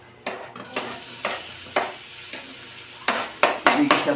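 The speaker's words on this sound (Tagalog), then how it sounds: "Igisa po muna yung bawang." Garlic frying in a pan, with repeated stirring strokes and a spatula scraping the metal over a steady sizzle, each scrape a short burst spread at uneven gaps and picking up pace near the end.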